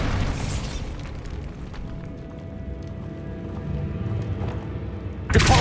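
A Bombarda spell blasts in the Hogwarts Legacy video game: a sharp explosive burst at the start, a low rumbling lull, then a second loud impact right at the end.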